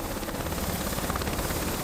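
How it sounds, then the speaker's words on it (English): A large Sikorsky S-92 passenger helicopter flies near an offshore oil rig, its rotor beating in a dense, continuous roar throughout. "We're flying these really large helicopters like this S-92"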